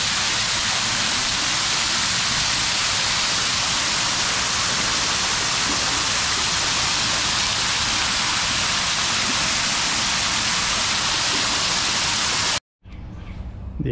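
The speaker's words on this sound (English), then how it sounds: "It's a waterfall." A steady, loud rush of falling water from a waterfall at Cameron Park Zoo in Waco, Texas, a continuous broadband roar that cuts off abruptly near the end.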